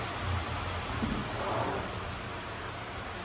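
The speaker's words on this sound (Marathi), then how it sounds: "वारं सुटलेला, पाऊस चालू झालाच" Steady, soft rainfall hisses evenly throughout, with no voices.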